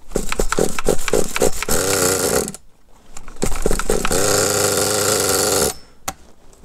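A PureTen Alpha3 nitro RC car engine, newly restored, is cranked with short rough bursts and then fires up into a loud, sustained high-pitched buzz, cuts out briefly, then roars again before dying off, close up.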